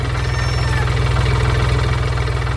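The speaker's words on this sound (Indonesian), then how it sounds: "Traktor." Loud, close tractor engine idling with a steady, rhythmic low chugging and vibrating rattle, no voices.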